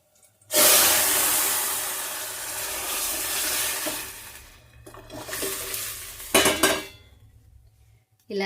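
Pre-boiled rasam poured into a hot pot, a loud rushing splash and sizzle that starts suddenly, tapers off, then returns in shorter bursts.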